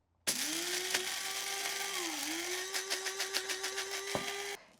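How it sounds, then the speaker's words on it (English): A small electric coffee grinder grinds toasted rice and lime leaves, whirring steadily for several seconds, then pulsing in short rhythmic bursts before stopping abruptly; loud and close. "I'm going to grind the toasted rice along with the lime leaves in a coffee grinder"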